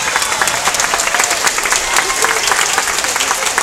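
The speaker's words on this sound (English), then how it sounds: "But he'd like more applause." An outdoor crowd at a trained bear show, Clark's Bear Show with Echo and Penny, claps loudly and continuously, a thick sustained patter of applause with a faint murmur of voices underneath.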